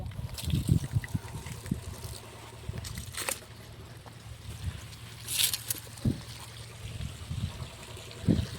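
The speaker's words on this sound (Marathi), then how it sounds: "आता हिला मी असं पाणी घालते." Water is poured onto a young papaya plant in a field, soft trickling and splashing that comes in several short bursts with quiet gaps between them.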